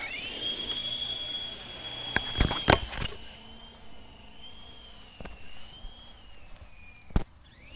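A cheap AliExpress toy helicopter takes off, its high electric rotor whine shifting in pitch, broken by several sharp clacks and knocks as it bumps about, close and without talk.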